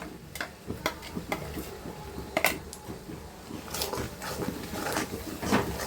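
Poppy seed paste curry with green chillies is stirred in a pan, making irregular close clicks, taps and soft scrapes of the spoon against the metal.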